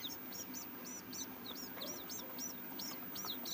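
A country hen in a farm grove clucks to call her newly hatched chicks to drink water, while the chicks keep up a steady run of high, thin peeps close by and the hen's low clucks stay soft underneath.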